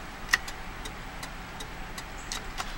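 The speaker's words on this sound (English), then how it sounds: "Do your flashers." Hazard flashers on a 2011 Ford Crown Victoria tick in a steady, even rhythm of soft clicks inside the quiet cabin, with an engine idling faintly beneath.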